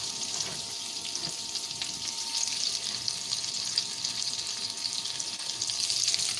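Onion frying in a pan for chilli, a steady loud sizzle with hissing crackle that holds unbroken for several seconds, with no talk.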